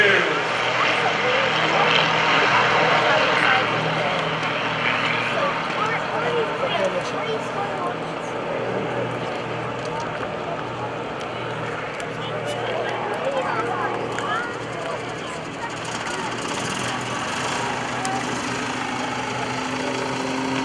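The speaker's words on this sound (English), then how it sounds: "With the full pitch biplane, Gary Ward right behind the MX2" Aircraft engines droning steadily at an airshow as Gary Ward's full-pitch aerobatic biplane flies with an MX2, a continuous propeller hum with a commentator talking over it throughout.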